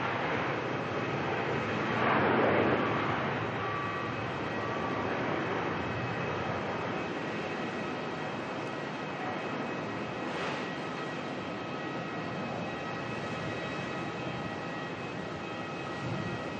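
An Airbus A350-1000ULR Project Sunrise jet departs from Melbourne Airport, its engines making a steady broad roar that swells briefly near the start and then holds as a continuous distant rumble with no talk.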